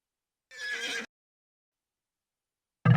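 A horse in the Age of Empires 2 strategy game gives a single short neigh, clear and isolated against silence, followed by a sudden low thud at the end.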